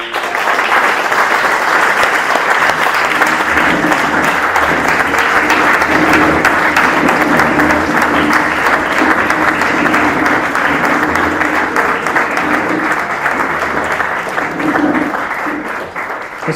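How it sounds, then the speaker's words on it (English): Guests at a 75th birthday party applaud after the speeches, with dense, steady clapping from a roomful of people that stays loud and even throughout, plus a little murmuring underneath. "Let's give Dad a big round of applause."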